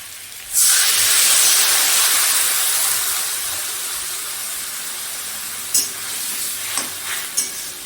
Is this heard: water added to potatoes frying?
yes